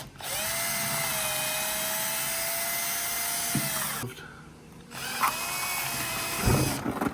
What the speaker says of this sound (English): I think I'm gonna have to drill the holes to release the air pressure